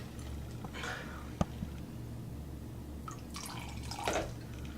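Vinegar poured onto steel wool, a few scattered drips and splashes with one sharp plop, close over a low steady background hum, no talking.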